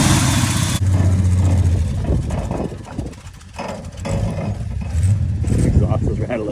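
The 250 engine of a 1968 Chevrolet C10 with a four-speed, left sitting for over a decade, cranks and catches, then settles into a rough loud idle with uneven surges, a person talking over it.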